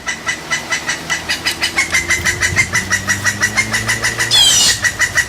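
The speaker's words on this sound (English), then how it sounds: "this is the call of the pileated woodpecker looking for a mate." A pileated woodpecker gives its mate-seeking call: a long, loud, evenly spaced series of about two dozen rapid nasal notes, with a brief noisy burst near the end.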